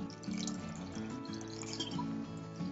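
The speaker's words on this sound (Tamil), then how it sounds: "இப்ப அந்த புளி தண்ணி கொதிச்சிருச்சு, இது ரொம்ப திக்கா இருக்கு, கொஞ்சமா தண்ணி ஊத்திக்கலாம்." Water poured into a pot of simmering tamarind fish curry with brinjal, a steady splashing pour with faint bubbling and dripping, close and moderately quiet throughout.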